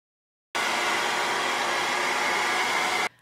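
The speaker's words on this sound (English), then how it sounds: "get the hairdryer out to dry the ink" A hairdryer runs at full blast to dry dip pen ink on watercolour paper, switching on abruptly and holding a loud, steady roar for about two and a half seconds before cutting off, with no talk.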